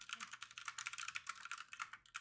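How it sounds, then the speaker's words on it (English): Rapid clacky taps on a computer keyboard during a live coding session, typed alone in a quick uneven rhythm of close, crisp keystrokes. "I don't know if you could hear my keyboard. Maybe it's some clacky ASMR."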